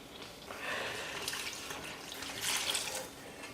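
A can of water is poured while cooking in a home kitchen, making a steady rushing, splashing stream that swells and fades slightly over a few seconds, with no talking.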